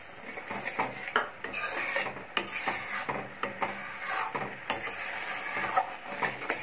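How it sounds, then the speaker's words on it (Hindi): Metal spoon scraping and clattering steadily in a kadai as a milk cake mixture with sugar is stirred, repeated clinks and scrapes with a faint sizzle beneath, close up and without talk. "लगातार चलाते हुए हम इसे मिक्स कर लेते हैं"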